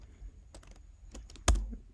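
A computer keyboard is typed on at a terminal in several quick, light key clicks followed by one sharper, louder keystroke near the end, close and alone.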